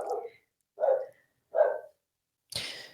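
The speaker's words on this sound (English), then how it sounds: "Those dogs are going crazy." A dog barks three times in an even rhythm, each bark loud and close with a clear gap before the next, and a burst of hissy noise follows at the end.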